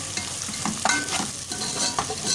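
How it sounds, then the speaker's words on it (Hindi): Bhindi masala is mixed and fried in a pan, with a loud, continuous sizzle broken by repeated spoon scrapes and knocks as the spices are stirred through; no voices. "और अब इसको अच्छे से मिक्स करेंगे"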